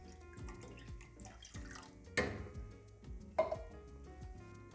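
Water poured into a pan while processing jabuticaba fruit, heard as soft dripping and splashing with a couple of brief louder splashes, fairly quiet and close.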